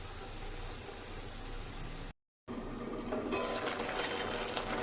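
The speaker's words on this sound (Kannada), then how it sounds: "ಚೆನ್ನಾಗಿ ಕುದಿಲಿ, ಇದು ಮುಚ್ಚಿಟ್ಟು ಸ್ವಲ್ಪ ಕುದಿಸುವ." Amaranth greens (harive soppu) boil in a covered pot during village cooking, giving a steady hissing, bubbling rush that cuts out briefly, then returns slightly brighter.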